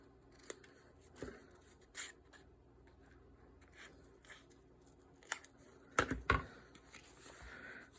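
Scissors trim a shoe indoors in a few quiet, separate snips that come to a closer, louder burst of cutting near the end.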